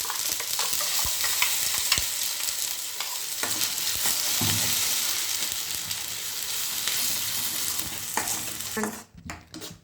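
Ginger garlic paste with ground tomato and onion sautés in a pan for chana masala, a continuous near sizzle broken by scraping stirs, fading to quiet with a few clinks at the very end.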